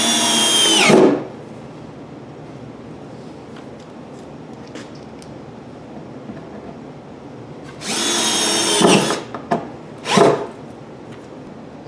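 Power drill boring into a wooden hutch on a small secretary desk with a tambour door: one short drilling burst at the start, then a longer whirring run and a brief final burst, separated by quiet room tone.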